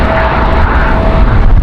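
An airplane lands at Raleigh-Durham International in a strong crosswind. A loud, rough engine roar mixes with gusty wind rumble for a brief moment.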